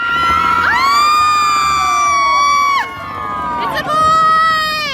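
A crowd at a gender reveal party bursts into loud cheering and screaming as colored smoke appears. Excited voices overlap in whoops and high shouts, dip briefly, then rise again.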